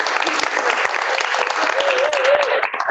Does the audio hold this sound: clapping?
yes